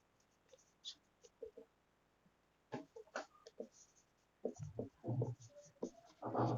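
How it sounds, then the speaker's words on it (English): Marker or chalk strokes on a classroom board during a physics lesson on spherical mirrors, coming as scattered short scratchy bursts, sparse at first and then denser, with a teacher's voice talking in between. "I am writing where I can write."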